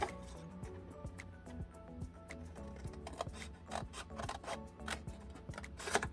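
Scissors snip repeatedly through paper while a Christmas paper clutch is being made, giving quick, crisp, close cuts in an irregular rhythm with a faint rustle of paper and no talking.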